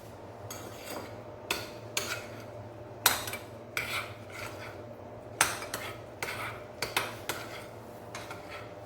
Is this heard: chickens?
no